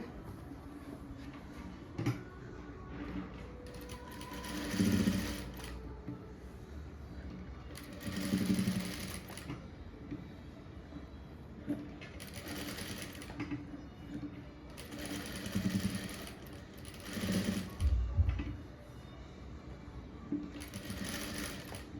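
A sewing machine stitches a blouse with white thread during a tailoring lesson, running in short repeated bursts with pauses between them while a voice speaks faintly in the background.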